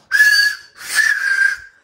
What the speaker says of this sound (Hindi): मैं एक बार सीटी बजा के देखता हूँ लाइट जल जाए।